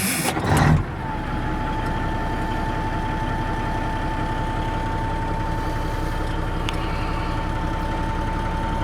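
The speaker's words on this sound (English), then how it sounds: "Motor starts quite easy." A Ford LTL 9000 truck's engine cranks briefly and catches, then settles into a steady, loud, close idle with a constant rumbling drone and a faint whine, with no one talking.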